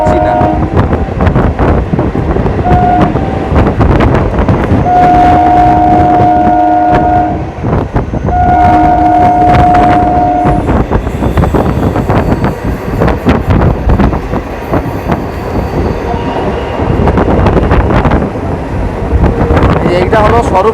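Local passenger train on the Krishnanagar to Amghata line, heard from on board as a loud, continuous rumble and rattle with wind buffeting. Sustained horn-like tones sound twice midway, and some speech may be mixed in.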